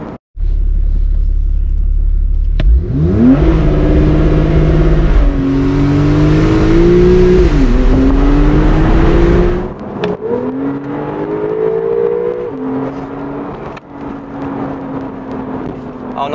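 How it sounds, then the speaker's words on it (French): A Porsche 911 Targa 4S flat-six engine revs up hard with a deep, metallic growl, pitch rising through several gear changes, loud and close, then settles into a lower running drone. "On entend très bien les râles métalliques du flat 6 derrière"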